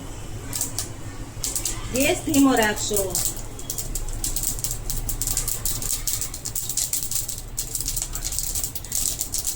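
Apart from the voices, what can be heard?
mustard seeds popping in hot oil in a kadai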